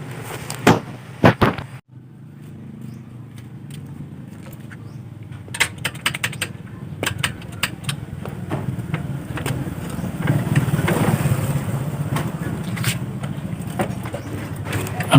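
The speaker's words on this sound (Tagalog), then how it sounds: "ang kanyang starter ay lagitik lang po ng lagitik" Honda XR200 motorcycle starter on a bike with a carbon brush fault, clicking over and over in a loose, uneven rhythm, with a few sharp ticks early, then a steady mechanical rattle and hum close by.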